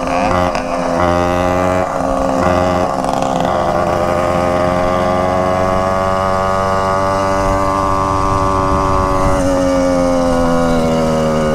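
Loud motorcycle engine roaring through a borrowed aftermarket exhaust, a steady throaty rumble held close for the whole stretch with slight swells in revs and no talk over it.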